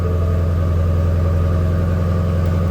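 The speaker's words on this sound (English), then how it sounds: "And the car starts." A 2015–2017 Ford car engine runs at a steady idle right after starting, a continuous low rumble with an even hum heard up close and alone, no voices over it.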